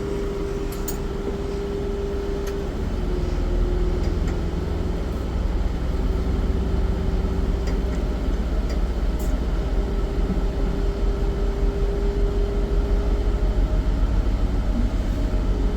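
Air brake system on a transit bus building pressure, a steady loud mechanical drone with a faint whine, continuous throughout with no talking.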